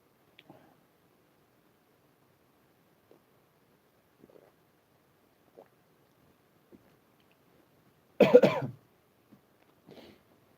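A single loud cough bursts out alone in a quiet room, followed by a fainter throat-clearing sound a moment later, with scattered soft clicks and rustles around it.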